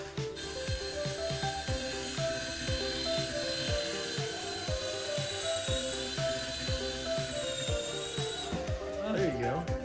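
A $5 Five Below toy RC aircraft whirs with a high, steady rotor whine through a descent and landing, with rhythmic mechanical clicking and people talking over it, ending with a brief warble as it touches down.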